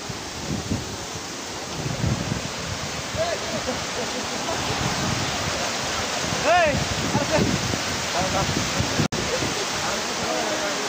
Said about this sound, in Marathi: हे बघा इथे धबधबा